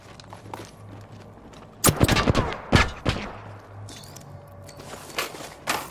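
Gunfire in Apex Legends: a quick cluster of sharp, loud shots fires in close sequence near the middle, then a few scattered lighter cracks and clatters follow over game ambience.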